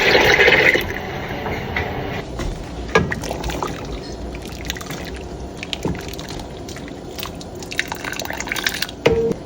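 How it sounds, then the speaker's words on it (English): Water poured into a pot of Jamaican red peas soup with conch and octopus over an open fire, a gushing splash at first, then scattered drips, knocks and bubbling. "Add some more water"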